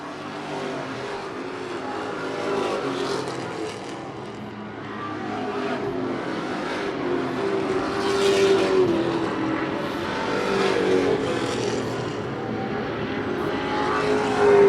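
Race cars at Wiscasset Speedway roar past in a continuous loud pack, engines rising and falling as they run side by side through the laps.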